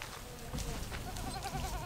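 Goats on a farm bleat in wavering, overlapping calls, fairly close and loud, with a moderate din of other farm noise underneath.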